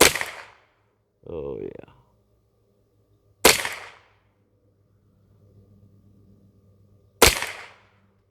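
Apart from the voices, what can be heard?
rifle shots fired from a shooting rest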